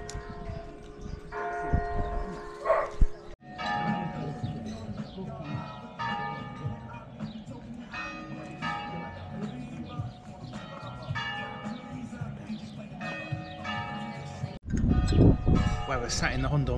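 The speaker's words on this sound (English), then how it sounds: "the bells are chiming in the background" Church bells chime steadily in the background across the Hondon Valley in Spain, heard from an outdoor bar terrace. Repeated tolls carry on beneath light ambient noise.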